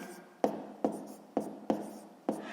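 A pen writes out a maths solution on paper in five sharp, evenly spaced strokes with scratchy tails, close and clear with no talking.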